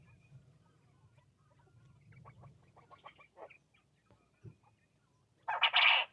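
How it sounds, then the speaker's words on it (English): A chicken or rooster calls out in a loud burst at the end, after quieter clucking and rustling from a small flock dust-bathing outdoors. "That's a rooster."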